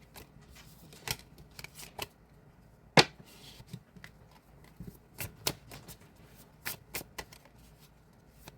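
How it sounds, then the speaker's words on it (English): Deck of tarot cards being shuffled by hand, with irregular crisp snaps and riffles close up, one sharp slap standing out among the quieter card flicks. "I gotta shuffle the deck again."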